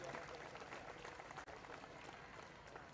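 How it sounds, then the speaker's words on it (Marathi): Audience applause at the opening ceremony of a state inter-university sports festival in Maharashtra, steady dense clapping from a large crowd filling the whole stretch at an even level. "त्याबद्दल सरांसाठी एक बार सर्वांनी टाळ्या वाजवून त्यांचं कौतुक केलं पाहिजे"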